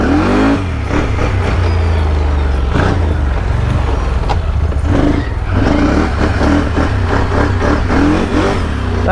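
Can-Am Renegade mud four-wheeler engine revving hard for a power wheelie, a loud, close, roaring surge that rises and falls in pitch over several seconds with rough outdoor noise.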